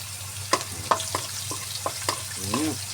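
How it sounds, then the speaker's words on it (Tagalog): Garlic frying in a pan while being stirred, a steady sizzle broken by several sharp utensil scrapes and clicks, with a brief voice-like murmur near the end. "Tapos, halo-haloin guys, yung bawang."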